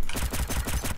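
Rapid automatic gunfire as a weapon empties its whole magazine in a shooter game, a loud, evenly spaced burst of close shots filling the moment with no talking.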